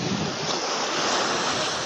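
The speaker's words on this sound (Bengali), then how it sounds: "প্রচুর ঢেউ, সর্বনাশ, রাস্তাঘাট সব শেষ করে লেগেছে ভাঙ্গে ভাঙ্গে।" Arabian Sea waves crash in a steady, close roar of surf, with wind noise buffeting the microphone throughout.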